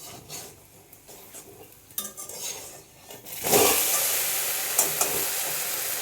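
A spatula flips a buttermilk adai on a hot tava. Metal scrapes and clatters against the pan over a steady sizzle, and the frying grows louder and brighter after the flip.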